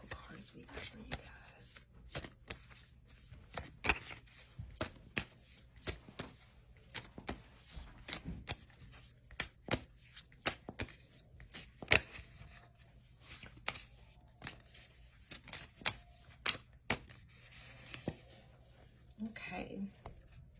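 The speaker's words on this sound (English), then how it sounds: "let me go ahead and pull a couple of oracle cards for you guys" Oracle cards being shuffled by hand, soft rapid riffling and slapping in steady bursts across a long stretch, close and quiet with a faint electrical hum underneath.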